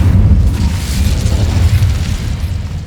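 Incendio fire spell cast in Hogwarts Legacy, a loud, deep rumbling whoosh of flame with booming low-end energy that persists throughout the few seconds, no speech.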